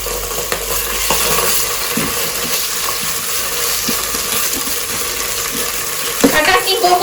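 Ginger garlic paste sizzles steadily in a hot pan while a spoon stirs it, a constant close frying hiss with occasional scraping clinks, a louder clatter near the end.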